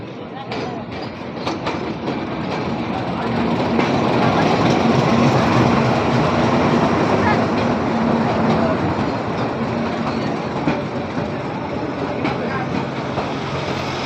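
A train arriving and passing on the line between Chashara and Kamalapur, a rising rumble that builds into a loud, steady rolling roar with faint wheel clatter, heard close by from the platform.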